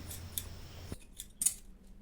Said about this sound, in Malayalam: ഇതേപോലെ തന്നെ ലൈനിങ് തുണിയും വെച്ച് കട്ട് ചെയ്യണം കേട്ടോ